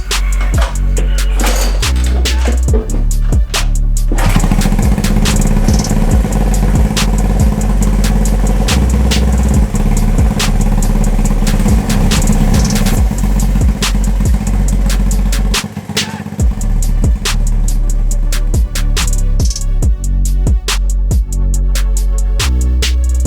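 A Honda CB125 cafe racer motorcycle engine runs loud and steady, with a dense rumbling idle and sharp irregular ticks and pops throughout, a brief dip near the middle before it carries on.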